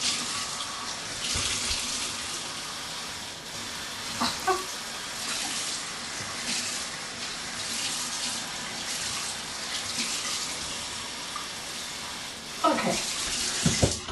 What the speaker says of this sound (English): I'm going to wet my hair in the sink so I can cut.